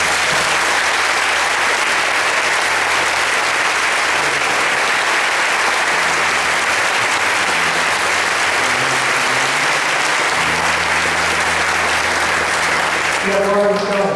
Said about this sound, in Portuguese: acolham esses nossos irmãos da nossa comunidade com uma linda salva de palmas